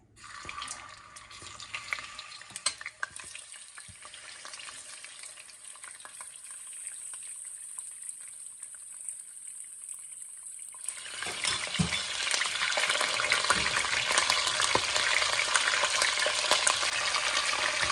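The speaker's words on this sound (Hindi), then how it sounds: "चिकन को हमने अच्छी तरह फ्राई करना है" Chicken for karahi fries in hot oil with a close, continuous sizzle and crackle. Partway through it swells into a louder, fuller spitting roar with stirring.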